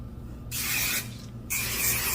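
Aussie hairspray with a grape scent sprayed in two close, steady hissing bursts of about half a second each, separated by a brief pause, with no talking.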